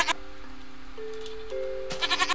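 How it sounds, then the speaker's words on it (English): A goat bleats in the Minecraft video game as a single drawn-out, wavering tonal cry lasting about two seconds, clear and fairly close, with a short sharper blip near the end. "It's a goat."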